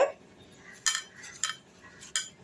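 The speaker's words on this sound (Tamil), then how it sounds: "கடலை மாவு, இது எல்லாத்தையும் போட்டு நல்லா மிக்ஸ் பண்ணிக்கலாம்" Rice flour and gram flour batter for fried fish being stirred in a bowl: three sharp clinks of a spoon against the dish with soft scraping between, close and quiet, no talking.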